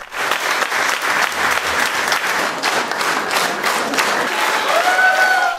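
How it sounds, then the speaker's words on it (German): A full audience rises in a standing ovation at the Lotte Lehmann Akademie concert in Perleberg, dense sustained applause filling the hall steadily and loudly throughout, with a faint tone rising near the end. "Das Publikum weiß diese Leistung zu schätzen und würdigt sie mit stehenden Ovationen."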